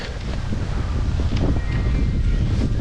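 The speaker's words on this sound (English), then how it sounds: "It's about 40 degrees with 25-mile-an-hour winds, so it's cold." Strong cold wind at about 25 miles an hour buffets a microphone outdoors, a low rumbling gusty roar with rustling that carries steadily through the short stretch.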